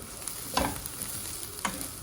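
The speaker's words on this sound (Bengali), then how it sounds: "তো এগুলো ভালোভাবে ভেজে নিতে হবে।" Dried chepa shutki fish sizzles in a pan with onions, a continuous close frying hiss with two brief scraping knocks as the fish is turned.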